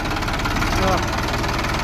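A tractor engine idles with a steady low, throbbing chug, close and continuous throughout the brief moment.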